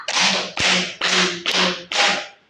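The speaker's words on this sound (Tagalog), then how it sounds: "Bigyan naman siya ng 5 palakpak." A class of students gives five rhythmic group claps, each a sharp, loud burst of many hands together with short gaps between, heard close and alone.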